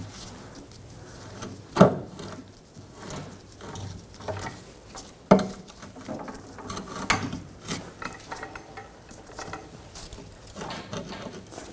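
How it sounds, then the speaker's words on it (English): A pull jack is lowered beneath a Nissan Rogue, giving off a run of ratcheting mechanical clicks and clatters with two sharper knocks, close and fairly loud, with no voices. "Now with the pull jack, I'm just going to lower it down."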